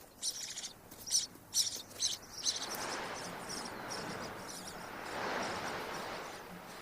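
Black-billed desert finch calling in a Russian desert, a run of bright, clipped chirps repeating for a couple of seconds, followed by a soft, steady hiss of wind or ambient noise.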